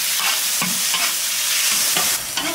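Meat stir-fried in a wok in a village kitchen for Laba noodle topping: loud continuous sizzling with rhythmic scrapes and tosses of the spatula, with no voices.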